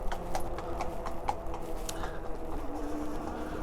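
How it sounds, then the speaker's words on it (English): Horse hooves clip-clop at a steady walking pace on a hard surface, close by, over a low background hum. "There's a horse coming."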